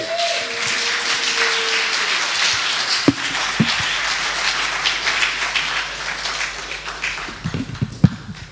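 A church congregation applauds with steady, dense clapping that fills the space, and a few louder individual claps and low thuds stand out near the end.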